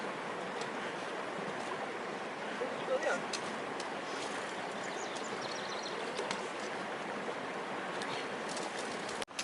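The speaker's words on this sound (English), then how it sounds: "Here's the first decent river crossing of the day." Broadband rushing of river water flowing over rocks at a trail river crossing on a Pacific Crest Trail thru-hike, a steady moderate wash filling the whole stretch with faint wind and a brief knock at the end.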